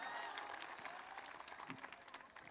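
An audience at a mushaira poetry gathering in Mumbra claps in a brief, scattered burst, heard faintly from a distance with voices mixed in.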